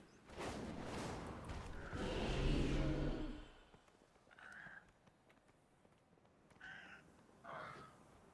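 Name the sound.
cat meowing in World of Warcraft video game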